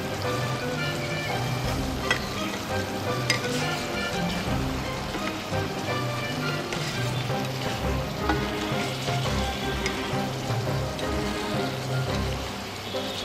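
Fried lentil dumplings (bori) go into a sizzling Bengali fish curry, bringing a loud, steady crackle and hiss of frying that runs unbroken with no talk.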